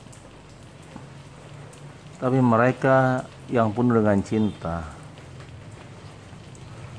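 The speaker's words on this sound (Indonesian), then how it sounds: "Bagi banyak orang, hujan adalah hal yang natural," Steady rain falls throughout as a soft, even hiss, with someone speaking over it in Indonesian for a few seconds in the middle.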